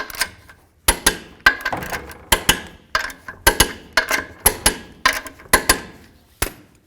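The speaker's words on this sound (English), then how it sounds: "now it's time to torque these" A torque wrench tightens lug nuts on a 2002-09 Dodge RAM 1500 to 130 foot-pounds, giving about a dozen sharp, loud, close clicks at an uneven pace.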